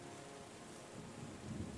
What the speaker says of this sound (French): On va attendre que la pluie fasse son œuvre.